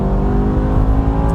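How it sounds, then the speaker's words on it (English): A BMW M5 E60 with its V10 engine revs hard during a downshift, a loud, steady, rasping engine roar with dense harmonic tones running throughout. "Downshifting, can hear that engine sound."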